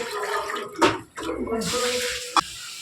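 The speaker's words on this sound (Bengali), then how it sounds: "এই যে গরম জল দিলাম" Hot water poured from a vessel into cooked, mashed lentil dal, a steady watery rush that breaks off briefly, resumes and ends with a small splash.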